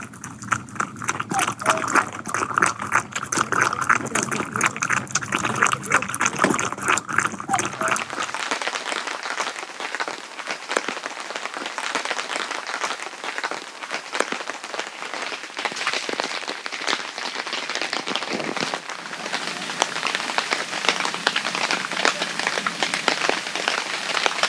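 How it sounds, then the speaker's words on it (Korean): Steady rain pattering down continuously on a campsite, a dense hiss of drops close by with no voices; the sound thickens briefly at the start. "비가 안 오는 줄 알았는데 추적추적 내립니다."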